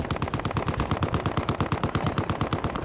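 Rapid automatic gunfire from a police-versus-criminals firefight in Battlefield Hardline at a gas station, a dense, steady burst of shots running without a break, loud and close.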